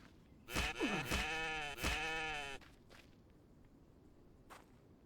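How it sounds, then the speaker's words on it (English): Two loud, close goat bleats from a goat in The Infected video game, each a wavering cry around a second long, followed by a faint shuffle and quiet ambience. "it's not a sheep, it's a goat"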